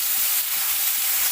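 Onion, ginger, garlic, dried chili and bay leaf fry in a hot kadai with a loud, continuous close-up sizzle and crackle.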